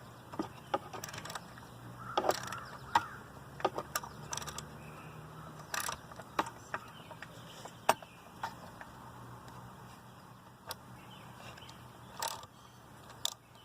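A 3/8 ratchet tightens the head bolts on a single cylinder engine, giving scattered clicks and metallic ticks across the whole stretch, close and fairly quiet with short pauses between bursts.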